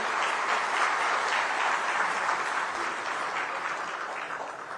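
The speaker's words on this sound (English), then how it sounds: "even more energetic round of applause for our friends who have come from all parts of the world" Energetic audience applause at a joint MEA and Odisha business session for visiting Pravasi Bhartiyas, a dense, sustained clapping that holds steady and slowly eases toward the end.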